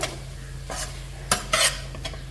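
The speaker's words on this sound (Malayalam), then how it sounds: "ഇത് നല്ലപോലെ നമുക്ക് ഇളക്കാം" A spoon scrapes and stirs papaya thoran in a pan in a few quick, close strokes over a faint steady sizzle.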